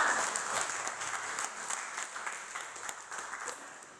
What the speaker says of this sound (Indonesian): Kasih tepuk tangan untuk semua